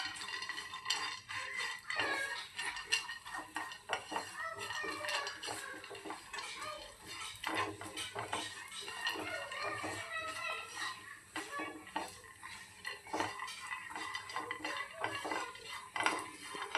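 Godambi seeds roast in ghee in a pan while a spoon scrapes and clinks against the metal in irregular bursts, close by, under someone talking throughout.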